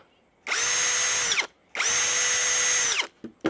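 A cordless power drill fitted with a large lithium battery whirs loudly at high speed in two sustained bursts of just over a second each, separated by a short pause, close up.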